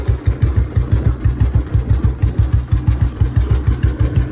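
A farm tractor engine idles close by, a loud, steady, low thumping chug with even rapid pulses and no talk.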